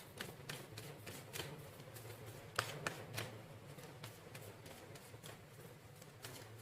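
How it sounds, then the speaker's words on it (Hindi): Tarot cards riffle and slap together in repeated shuffles, a steady soft flutter of close, quiet card noise with a few sharper snaps and no talk. "क्लैरिफिकेशन लेने के बाद मैं आगे के कार्ड्स निकालूंगी"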